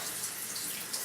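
Water streams from a tap while a makeup brush is rinsed under it, a brief, steady bright hiss, close and uninterrupted, without any speech.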